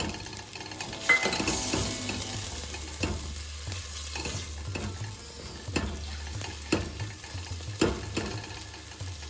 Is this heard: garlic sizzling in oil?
yes